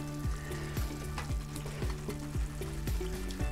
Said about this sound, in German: Und ihr seht, die Masse brutzelt schon ganz wunderbar.